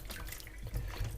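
Tap water runs at half flow over raw chicken being washed and rubbed by hand in a sink, a steady, close splashing rush with no voices.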